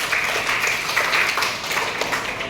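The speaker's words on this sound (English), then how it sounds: "Clapping for Rida Fatima." A school class claps for a student, a brisk burst of many hands clapping together in a room, fairly loud and continuous throughout.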